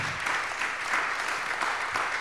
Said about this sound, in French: Merci infiniment, Marion Giraudot, on peut l'applaudir.